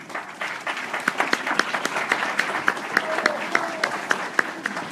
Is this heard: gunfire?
no